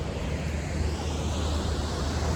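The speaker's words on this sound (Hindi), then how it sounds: "इधर वाटरफॉल है" Steady broadband rush of falling water from a man-made waterfall beside a mountain restaurant, heard close and continuous with no talk over it.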